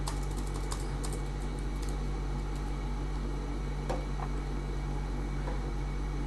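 Typing on a computer keyboard: scattered light key clicks, a few quick bursts and isolated taps, sit over a steady low fan-like hum, with no talk.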